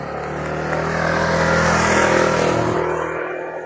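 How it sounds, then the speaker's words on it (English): A couple of scooters drive past on a street, their engine drone swelling up to a loud peak mid-pass and then fading away, with no talking. "Got a couple of scooters going by here."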